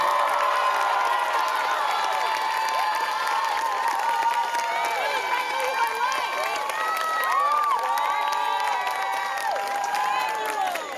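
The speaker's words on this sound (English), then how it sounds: "would love for us to just give a huge round of applause" A large crowd at a school closing convocation cheers and claps loudly, with whoops and high excited shouts layered over sustained applause.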